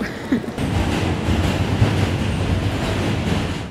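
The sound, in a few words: New York subway train ride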